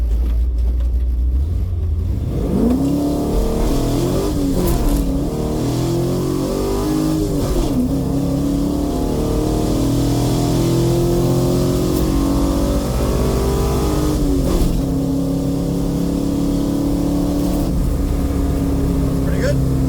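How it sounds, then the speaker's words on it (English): A 2003 BMW drag car at a test and tune drag racing session, its engine loud and close, revving and climbing through gears with rising and falling pitch sweeps over a constant roar, a voice talking over it. "Ray Hobbs again in the 2003 BMW"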